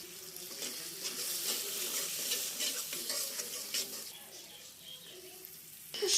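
An egg cracked into a pan of leftover rice with soy sauce fries with a busy close sizzle, stirring clatter and sharp scraping, with a louder burst at the very end.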